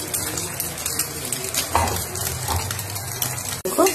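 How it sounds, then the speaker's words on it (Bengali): Egg omelette frying in a pan in a home kitchen, a steady close sizzle and crackle with brief spatula scrapes partway through. "দেখো ডিমের অমলেট একটা একটা করে ভেজে নিই।"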